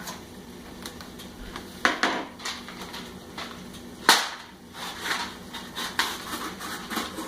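A kukri knife slices and scrapes at a cardboard macaroni and cheese box, giving several sharp crisp tears and scratches in irregular bursts, close and moderately loud.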